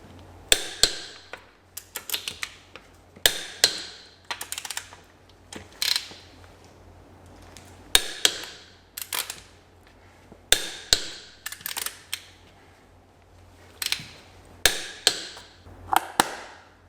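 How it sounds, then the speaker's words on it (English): Sharp ratcheting clicks and metallic snaps come in short bursts from a torque wrench tightening the wheel bolts on an Audi Q7, each bolt taking a quick run of clicks with pauses between. "So now all that's left to do is torque up our wheel bolts."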